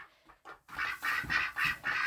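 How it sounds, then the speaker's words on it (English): Farm ducks quacking close by, a run of four or five loud nasal quacks in quick succession after a couple of softer calls. "I love my ducks."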